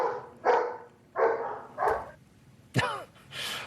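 A dog barks several times in short separate bursts about a second apart at moderate distance, with one sharper yelp among them and faint room noise between.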